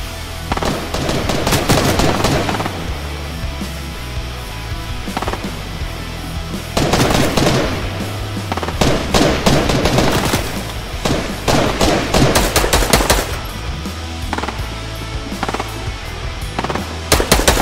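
Gunfire in the video game Fortnite: loud, rapid automatic bursts and single cracks come in clusters across the whole stretch, with short gaps between them and no talk.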